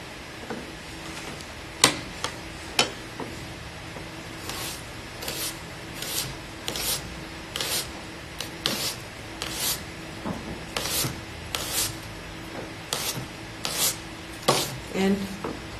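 A knife cuts nice thin vegetable slices on a cutting board, making a series of light, irregular taps and scrapes close by at a soft level, with no talking.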